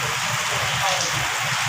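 Heavy rain falling steadily in Taxila, a dense continuous hiss of rain on surfaces, loud and close, with faint low rumbles beneath.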